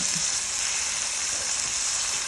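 Pad thai rice noodles stir-fry in a hot pan, giving off a loud, unbroken hissing sizzle that stays steady from start to finish, heard close with no voices.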